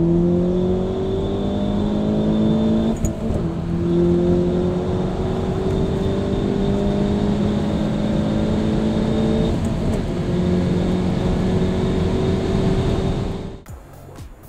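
A tuned Hyundai i30N with a Stage-3 turbo upgrade at 350 PS accelerates hard from 100 to 200 km/h. The engine drone climbs steadily through the gears, broken by two brief shift pauses, loud and sustained from the cabin.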